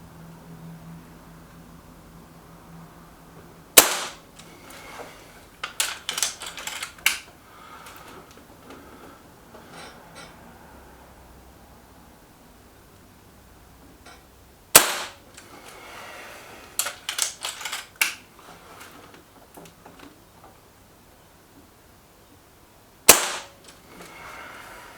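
A Beeman 1357 air pistol fires pellets at a card, giving sharp isolated cracks spaced several seconds apart, each followed by a quick cluster of clicks and clatter from handling the gun, with quiet between the bursts.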